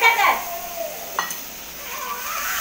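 Chopped tomatoes are stirred into a frying pan of chillies for a lentil and tomato curry, a soft continuous sizzle with faint scraping and a few brief tonal sweeps.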